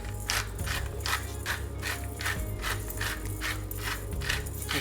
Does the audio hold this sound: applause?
no